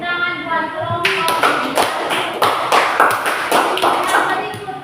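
Group clapping at a weekend scout camp session starts abruptly after a moment of voice, then continues as a steady, dense patter of hands from a close crowd.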